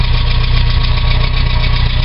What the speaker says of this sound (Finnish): Autossa on mukava raikas tyhjäkäynti, ei pätki